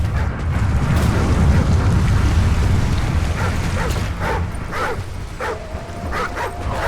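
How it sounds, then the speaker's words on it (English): Riley, a dog in Call of Duty: Ghosts, barks in several sharp yips toward the end over a heavy, rumbling game ambience. "What's this dog up to? Riley, heel!"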